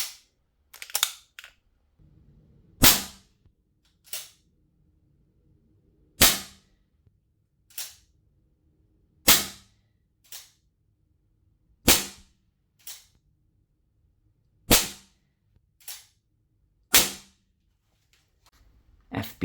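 Umarex AR-15 Strike Force airgun firing 4.5mm steel BBs: about a dozen sharp, loud single shots spaced a second or two apart, each a crisp crack with a short tail, heard alone against quiet.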